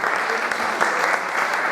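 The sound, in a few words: audience applause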